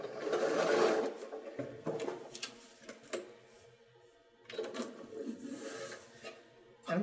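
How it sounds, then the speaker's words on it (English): A sewing machine stitches along a paper-piecing line at a shortened stitch length, in short bursts of quick rattling needle strokes separated by pauses, close but fairly quiet. "You sew right on the line."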